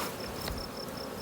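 Honey bees buzz during a colony cutout from a farmhouse eave two stories up, a faint steady insect hum with a soft repeating high whine and one brief knock.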